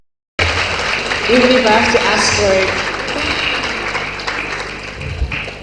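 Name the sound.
audience applause at a midwifery conference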